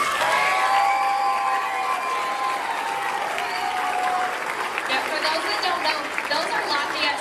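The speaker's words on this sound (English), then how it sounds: "can we give a round of applause for our lights and sound people?" A school audience at an 8th grade concert breaks into loud sustained applause, dense clapping with some cheering, while a voice is heard over the crowd.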